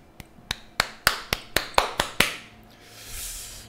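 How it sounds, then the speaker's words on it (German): Nine sharp hand claps in an uneven rhythm, close and fairly loud, fading into a soft hiss at the end, heard during a Realm Royale alpha test session. "Das ist Klatschen."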